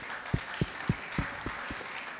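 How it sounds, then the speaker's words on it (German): During an interview session at the splash! festival, a few sparse, distinct claps greet the guests Dexter and Skinny, about six separate hand claps in a slow, uneven rhythm over a quiet room. "Applaus für die beiden bitte einmal."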